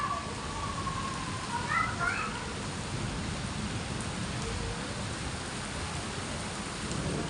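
Steady rain pours down in Bangalore, a dense continuous hiss of drops on surfaces, even and moderately loud throughout, with a faint voice briefly in the background.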